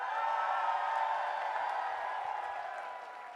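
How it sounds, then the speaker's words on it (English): An audience at a coaching event applauds and cheers for actor Tiger Shroff, a broad, sustained roar of clapping and voices that gradually fades. "Ladies and gentlemen, please give Tiger a huge round of applause."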